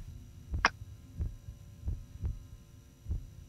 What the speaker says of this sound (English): Follow the heartbeat.